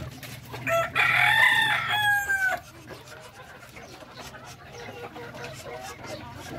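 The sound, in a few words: darag native chicken crowing and clucking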